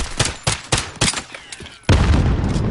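Rapid gunfire in a shooter video game, several loud cracking shots in quick succession followed by a sustained burst of heavy firing, close and prominent.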